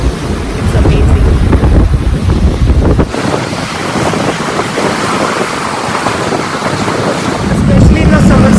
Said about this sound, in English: I love the sound of the water, sound of the sea.